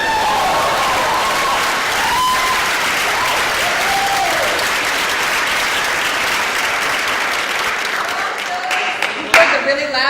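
Loud, dense applause from an audience at a school recognition and awards event fills the space continuously, with cheering voices mixed in and a few sharper claps near the end.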